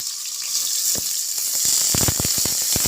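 Chopped large onions hit hot ghee with a bright, steady sizzle and hiss, then a cluster of crackles and pops near the end, close and alone.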